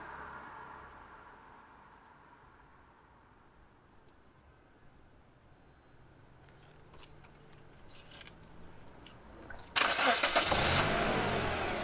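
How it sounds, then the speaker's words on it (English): A car engine cranks and catches, started remotely off a Fanttik T8 1300 amp jump starter pack, bursting loud near the end after a quiet stretch of faint background noise and small clicks. "I can start my car remotely with the power supply hooked up."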